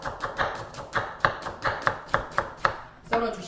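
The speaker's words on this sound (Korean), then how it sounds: "자, 양파 썰어줍니다." A knife slices an onion into thin strips on a cutting board for a Chinese yangjangpi japchae dish: a quick, steady run of about a dozen close, crisp chops, each a sharp tap on the board, with no talking.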